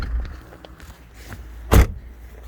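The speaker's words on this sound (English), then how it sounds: "has a better door shut sound than this 2010 Vauxhall Zafira with the door card on and everything intact." The door of a 2010 Vauxhall Zafira, door card fitted and intact, shuts with one sharp, loud thud after a few soft handling noises.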